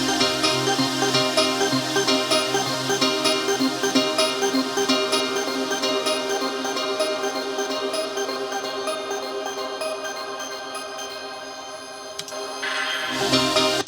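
A fully low-pass-filtered electronic music passage with extra reverb added in a studio production, a dense, washed-out, sustained synth texture that holds steady, cuts out briefly near the end, then returns.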